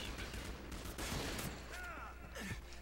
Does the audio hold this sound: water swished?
no